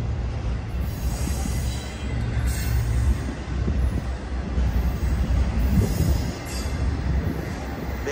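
A Union Pacific freight train rolls past the Emeryville Amtrak station in California, a steady loud rumble of rail cars and wheels sustained throughout with faint squeals overhead and no talk.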